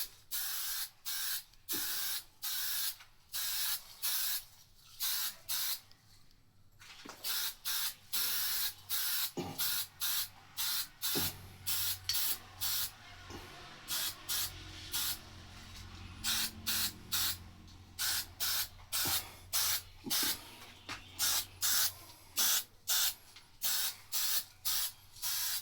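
Short bursts from a spray can hiss onto motorcycle parts such as a muffler and pegs being painted, a rhythmic series of sharp close sprays separated by brief pauses.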